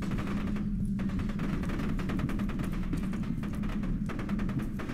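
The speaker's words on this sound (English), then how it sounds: "I hear people shooting" Rapid machine-gun fire from a shootout in F.E.A.R. 2, a steady, unbroken rattle of automatic shots at a fast, even rhythm, fairly loud throughout with no voices.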